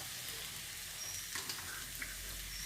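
Ghee added to a cabbage and pea curry sizzles softly in the pan, a faint, steady crackle ending in a brief louder clatter.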